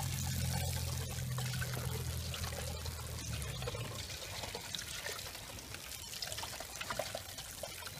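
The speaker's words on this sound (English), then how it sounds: "Take my can of water, pour it in the cup." Water pours from a can into a cup in a lanternfly trap, a close continuous splashing trickle that runs steadily for several seconds without talk.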